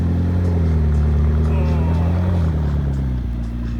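A McLaren sports car engine starts up and idles with a deep, steady rumble, loud and close, settling slightly lower toward the end.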